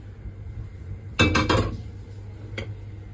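Spoon scraping and clinking against a pot as rice is mixed with ginger and garlic sautéed beforehand, a short burst of clatter followed by one lighter knock, close and clear.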